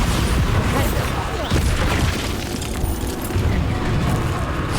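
A Bombarda spell explosion in Hogwarts Legacy, a dense continuous roar of booming blasts and rumble that holds loud and steady from start to finish, with a voice faintly mixed in.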